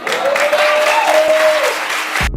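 A studio audience breaks into loud, sustained applause that fills the whole stretch without a break, then cuts off sharply at the end.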